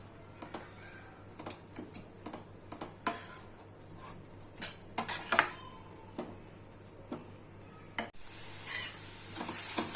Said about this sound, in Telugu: ఇది స్టవ్ని సిమ్లో ఉంచుకుని ఒక ఐదు నిమిషాలు వేగనివ్వాలి మధ్య మధ్యలో ఇలా కలుపుతూ ఉండాలి